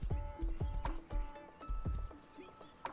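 Horse galloping in the game Rust, rapid hoof clip-clops in a quick rolling rhythm, close and fairly loud, with a faint tonal hum behind.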